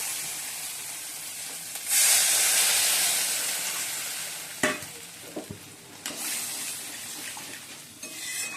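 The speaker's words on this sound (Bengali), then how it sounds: "এবার তেল ছেড়ে গেছে এবার গরম জল দিয়ে দেবো" Hot water poured into a sizzling pan of fried spice mix sets off a loud burst of hissing steam, which slowly fades. A few clattering knocks of a utensil against the pan follow, with the sizzle continuing underneath.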